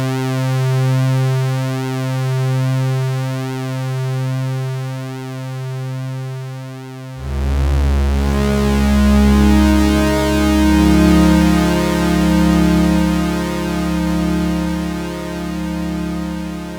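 A long-release Blade Runner-style synth pad patch on a Prophet Rev2 holds a sustained harmonic chord, then shifts to a fuller, brighter chord that rings on steadily without fading, loud and alone with no voices.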